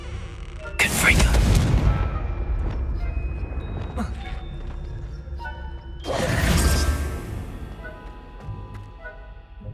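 Two loud Confringo fire spell blasts in Hogwarts Legacy, a roaring burst near the start and another about six seconds in, each fading into a low rumble, with quieter game ambience and faint chiming tones between them.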